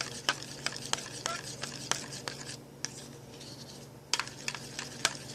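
Buttercream for cream cheese frosting being mixed by hand, with repeated sharp scraping taps against the bowl in an uneven rhythm over a quiet background hum.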